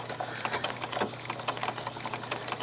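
A sewing machine runs steadily while stitching quilt binding with a blanket stitch, its needle producing a fast, even clicking rhythm close by with no talk.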